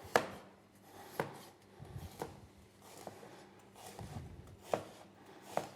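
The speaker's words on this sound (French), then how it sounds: "Donc là, pareil, on coupe de fines tranches." A knife cuts thin slices of coconut on a board, giving several sharp, evenly spaced chops that are close but fairly faint, with no talk.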